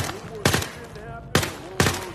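Shots in the VR game Zero Caliber 2, set in Kaliningrad: three sharp, close gunshots at irregular intervals, with faint talk beneath them.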